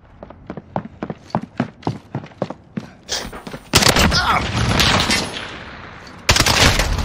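Gunfire in Call of Duty hardcore multiplayer: a steady run of evenly spaced single shots, then loud, dense sustained bursts and a heavy blast, all close and without talk.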